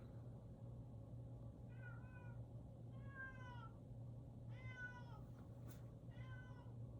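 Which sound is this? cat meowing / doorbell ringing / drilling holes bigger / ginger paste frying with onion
cat meowing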